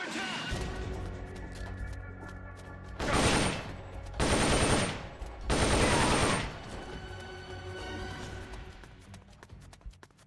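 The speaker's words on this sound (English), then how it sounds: "You hear that? Gunshots!" Gunfire in the video game Metal Gear Solid Peace Walker, three loud sustained bursts of rapid shots over steady game background sound.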